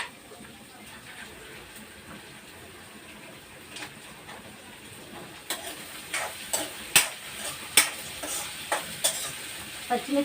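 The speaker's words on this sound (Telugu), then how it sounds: "పచ్చిశనగపప్పు అయితే బాగా వేయించుకోవాలి" Chana dal frying in a pan makes a soft sizzle, then a run of sharp, rhythmic stirring clicks and scrapes in the second half.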